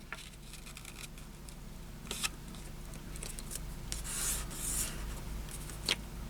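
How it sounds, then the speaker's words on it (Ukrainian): A 9 by 9 cm square of origami paper being folded in half, soft close rubbing and creasing with a few sharper crackles as the sheet is pressed flat, quiet and unaccompanied. "Беремо листок, складаємо його набік вдвічі."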